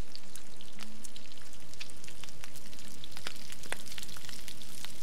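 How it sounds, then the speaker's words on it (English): Meat cooking over a fire in The Long Dark survival game, a steady crackling sizzle with scattered sharp pops, fairly close and alone with no talk. "Let's just cook all of this up."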